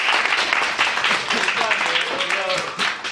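A class of second-year high school students claps together to open a history lesson, a lively burst of hands mixed with students' voices and excited calls rising through the middle.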